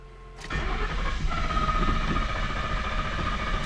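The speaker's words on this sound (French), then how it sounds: "je sais que c'est le compresseur d'air des suspensions arrière" A Lincoln Town Car's rear air suspension compressor kicks in with a steady mechanical whir after a brief pause and keeps running over the car's low engine rumble, close and fairly loud, with no talking.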